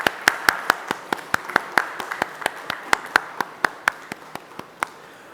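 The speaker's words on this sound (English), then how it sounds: "Warm hearts and maybe a round of applause." Steady, evenly spaced claps ring out at a 2022 launch event for a metal 3D printing machine, about twenty crisp hand claps over five seconds, sounding like a small group or a single person clapping rather than full applause.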